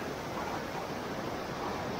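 Steady, broadband rush of a dangerously fast river current at a waterfall, heard from waist-deep water, loud and continuous throughout with no pauses.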